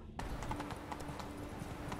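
Horse hooves clip-clop in a steady, close rhythm of distinct hollow strikes as the horse moves in The Witcher 3: Wild Hunt, with a faint tonal hum underneath.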